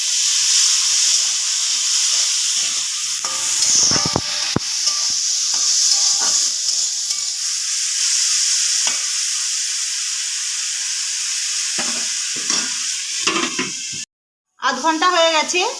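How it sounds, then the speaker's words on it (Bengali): Salted green beans fry in oil in a wok with a loud, steady hissing sizzle and scattered stirring clatter; after a short silent gap near the end, a voice is heard. "এখানে আমি বরবটি কড়াই নিয়েছি, ভেজে নেব।"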